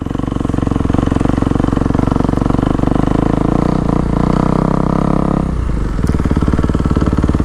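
Several small kids' dirt bikes ride a motocross track with a dirt start at a Red Rock riding park, a dense, loud, continuous buzz of two-stroke engines that carries on steadily before easing off near the end.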